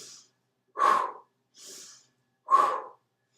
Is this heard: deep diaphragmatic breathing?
yes